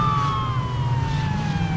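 Police car siren in the Saints Row video game, a steady wailing tone that glides slowly downward, loud and continuous under a low rumbling engine bed.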